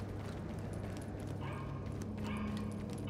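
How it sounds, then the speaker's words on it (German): A sprinkler system in The Division video game hisses steadily, with short yelping bursts that resemble a dog barking, set against a constant low hum. "Ja, das hört sich halt an wie ein Hund, ne? Diese Sprinkleranlage, ne?"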